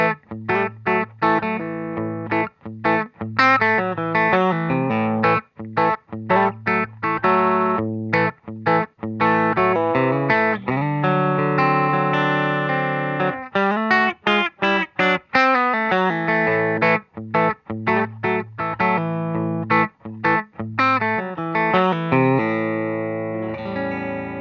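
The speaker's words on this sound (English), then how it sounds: "the Walrus has that kind of more, you know, raw mic'd up amp feel" Electric guitar through a Walrus ACS-1 amp simulator pedal, giving a raw mic'd-amp distorted tone on a steady stream of loud, chunky chord strums and riffs with frequent short stops.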